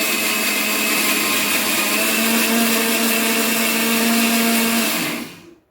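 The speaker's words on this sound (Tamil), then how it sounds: "பாசிப்பருப்பையும் அரைச்சிடுவோம். பவுடர் பவுடராக இருக்கணும்." A mixer grinder runs steadily at a loud, continuous whine while grinding moong dal into fine powder, then cuts off near the end as the motor winds down.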